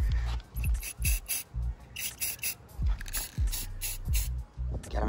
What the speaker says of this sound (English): Who else do you know has ever spray painted a Shimano reel?